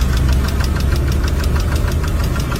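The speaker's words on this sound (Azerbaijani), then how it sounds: "Bu səs mühərrikdən gələn səsdir." A car engine knocking from worn internal parts and increased piston-to-cylinder clearance, a steady, rapid metallic tapping over a loud, continuous engine rumble, close up with no talking.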